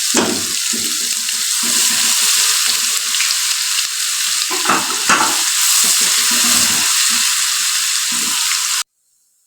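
Ginger garlic paste fries in hot oil in a pan for a karam and palak saag, giving a loud, continuous sizzle with a few scraping stirs before it cuts off abruptly.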